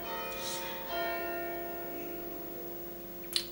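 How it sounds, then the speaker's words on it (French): Church bells chime the quarter hour somewhere in a French town, sustained tones ringing at moderate distance, steady and resonant, with a brief clatter near the end. "voilà les cloches, tous les quarts d'heure"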